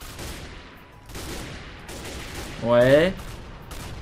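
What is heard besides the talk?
gunfire with blank rounds in a video game roleplay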